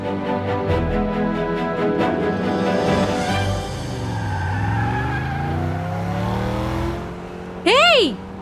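A car being driven as an ambulance revs hard through traffic, its engine climbing and falling with tires squealing. Voices talk over it, and a sharp rising whistle-like sweep cuts in at the end.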